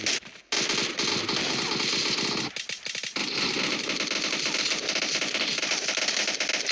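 Rapid automatic gunfire in a video game match, loud and close, in long sustained bursts broken by a brief pause near the start and a stuttering gap midway, with no talking.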